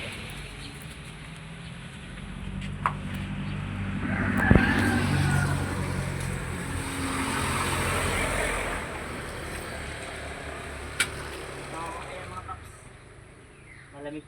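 A cold Kawasaki Barako motorcycle engine turns over and catches, settling into a low, steady rumbling idle with a few sharp clicks, fairly quiet and close, with someone talking over it.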